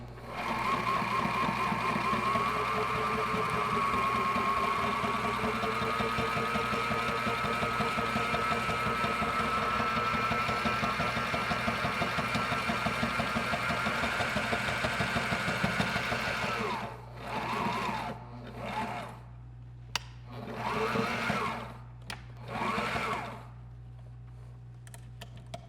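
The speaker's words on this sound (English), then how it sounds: "let's get this piece sewn on" A sewing machine stitches a piece of sailboat sail in a long, steady whirring run of close rapid needle strokes, then stops and gives a few shorter bursts with pauses between.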